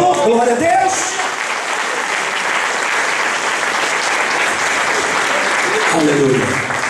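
A church congregation at a Portuguese-language evangelistic campaign service breaks into loud, sustained applause for Jesus Christ, dense clapping filling the room with a voice briefly over it at the start and again near the end.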